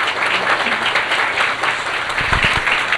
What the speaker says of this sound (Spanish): Con un fuerte aplauso a José.